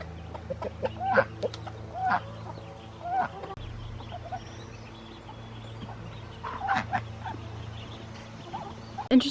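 Chickens cluck and call softly near a feeder of chick starter, with scattered calls over a steady low hum, fairly close.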